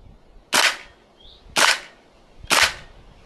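Three sharp, evenly spaced shots from a Tokyo Marui AKM green gas airsoft rifle firing BBs through a chronograph, each a loud crisp crack with a short gas hiss, about a second apart.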